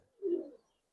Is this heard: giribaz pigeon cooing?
yes